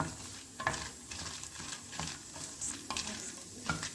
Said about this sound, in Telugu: ఇలా కొన్ని మాకు సరిపడిన మిరపకాయలు మాత్రం వేసుకొని వేయించుకుంటున్నామండి